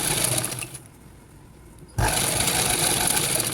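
Small sewing machine stitching blouse fabric, a fast whirring run that stops briefly for about a second, then resumes at full speed, close and loud with no talk.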